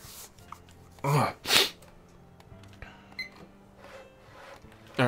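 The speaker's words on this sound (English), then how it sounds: "I actually just sneezed, but I forgot to pause." Two sharp, close sneezes burst out one after the other in a quiet room, with faint background noises after them.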